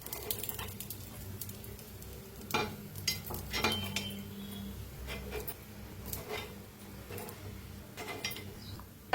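Appe (vada) fry in oil in a pan for an upvas fasting meal, a soft steady sizzle broken by scraping stirs and light taps of a utensil, with a few louder clinks.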